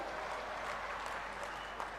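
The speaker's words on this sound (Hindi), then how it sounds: "एक बार ताली बजा के स्वागत करो गडकरी जी का" Audience applause welcoming Nitin Gadkari at the inauguration of the Sidhi–Rewa tunnel, a sustained crowd clapping that is fairly loud and even for two seconds.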